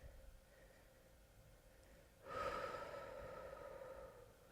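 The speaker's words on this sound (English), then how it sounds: "And just breathe." One slow, deep breath taken during a yoga hamstring stretch, soft and close, rising into a longer airy exhale that fades gently against a quiet room.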